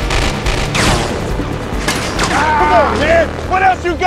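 Bursts of machine gun fire in a movie chase scene, rapid loud shots mixed with booms and crashes, while someone shouts excitedly over the action.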